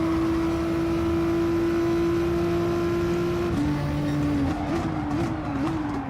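Race car engine in Gran Turismo Sport at Monza holding a steady high rev, then upshifting several times with pitch drops and climbs as it accelerates, loud and continuous.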